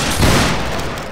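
A line of soldiers fires a musket volley in the game Battlegrounds 3 during a clan linebattle, a dense, loud, rolling burst of overlapping gunshots that fills the short moment.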